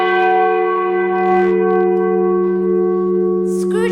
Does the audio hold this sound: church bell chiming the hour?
yes